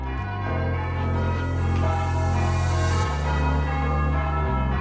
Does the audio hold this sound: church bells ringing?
yes